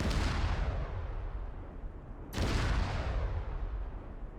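Two booming IED blasts from an ArmA 3 carpet-bombing setup, the first already rumbling at the start and a second sharp detonation about halfway through, each rolling into a long, loud, broadband roar with no talking.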